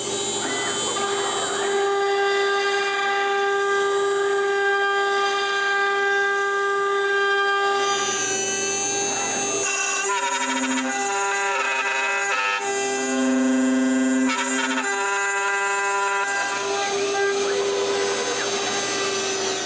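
A CNC machine cuts a hole in a basswood block with a loud, continuous whine of the spindle, steady tones that shift in pitch as the cut changes, and rising tonal squeals partway through.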